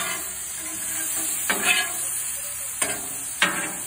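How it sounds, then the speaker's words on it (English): Small steak pieces cook on a griddle while being stirred, a steady sizzle and hiss running throughout with three sharper bursts of scraping and searing flaring up near the end. "Steak cooks rather quick as well, especially when they're in small pieces like this."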